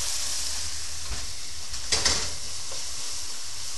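Garlic tossed into a hot pan gives a steady close sizzle, with a brief burst of crackling and spatter as it lands, then a continuous frying hiss.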